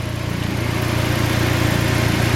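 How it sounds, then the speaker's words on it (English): A Chery Automotive 16-valve four-cylinder fuel-injected engine idles in a 2011 Joyner Trooper off-road buggy, a steady, close, even low rumble with no talking. "So this is a Cherry Automotive 16-valve 4-cylinder engine."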